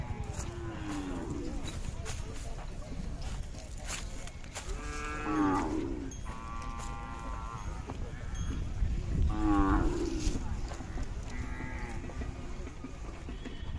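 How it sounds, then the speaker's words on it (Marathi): Khillar cows and calves moo loudly and repeatedly at a livestock fair, several long bellows overlapping with crowd chatter and other animal calls in a busy outdoor setting. "वेलेली गाय आहे पाहू शकता खाली."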